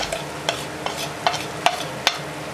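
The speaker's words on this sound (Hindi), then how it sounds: "अच्छे तरीके से मिक्स कर फ्राई करेंगे" Potatoes and lobia with spices are stirred in a frying pan, giving a soft sizzle broken by five or six sharp spoon scrapes at a steady, unhurried rhythm.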